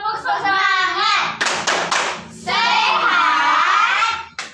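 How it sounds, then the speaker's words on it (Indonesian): Fourth-grade pupils in a primary classroom chant a spirit cheer in unison, broken in the middle by a quick burst of rhythmic hand claps before the chanting resumes, loud and close. "Tepuk semangat lagi yuk. Tepuk semangat."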